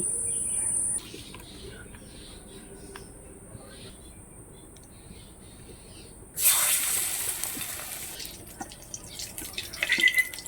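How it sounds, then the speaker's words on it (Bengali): Oil poured into a hot wok on a clay stove gives a sudden bright sizzling hiss that holds, crackling and popping, after a quieter stretch of faint background clatter. "এইবার আমি কড়াটা বসিয়ে দিচ্ছি এই তেলটা আমি দিয়ে দিচ্ছি"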